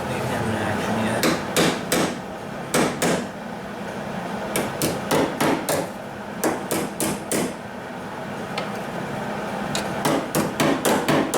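A body hammer strikes a steel wheel arch patch panel on a 2000 Mazda Protege during rust repair, sharp metallic blows in quick bursts of three to five, close and loud over a steady background hum.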